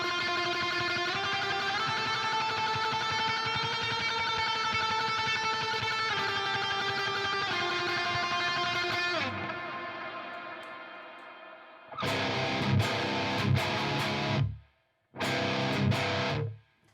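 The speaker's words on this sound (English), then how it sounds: "I still got a little bit of that reverb and delay still hanging over" Electric guitar run through a Wampler Ethereal reverb and delay pedal, with the reverb nearly maxed and the delay mix high: sustained distorted chords wash on with long echoing tails, then a few loud strummed bursts with a short gap between them.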